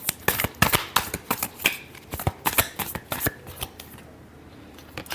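Tarot cards being shuffled by hand in a rapid series of crisp, close riffling snaps and slaps, with bursts for about four seconds before fading to a quiet hush.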